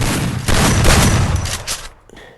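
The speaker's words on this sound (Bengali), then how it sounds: "এখন হেডশট দিয়ে দিব, এই যে দেখুন," Rapid gunfire in a mobile shooting video game during a headshot attempt, a loud dense burst of shots played close through phone audio that cuts off sharply near the end.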